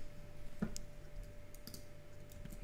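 A computer mouse clicks a few times during editing work in After Effects, quiet, sharp, separate clicks over a faint steady hum.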